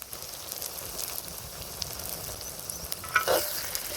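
Brinjal pieces are stirred with ground masala in a hot pan for a village-style gravy: a soft, continuous sizzle with scraping strokes, and a sharper spoon scrape and clink near the end.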